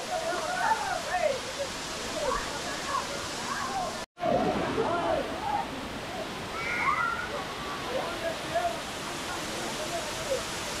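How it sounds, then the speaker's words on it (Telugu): Waterfall at TK Falls near Bangalore, a loud continuous rushing roar of falling water with a brief dropout midway, and faint voices now and then under the noise. "చూడండి ఇక్కడ అయితే ఫుల్ వాటర్ ఫాల్స్ ఉన్నాయి."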